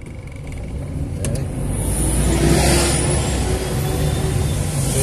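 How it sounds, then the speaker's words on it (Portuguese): Steady roar of car traffic on a busy São Paulo avenue, heard from inside a vehicle, with a vehicle passing close by and a continuous broad engine and tire rumble throughout. "vou fechar o vidro aqui pra não ficar o barulho de carro aí"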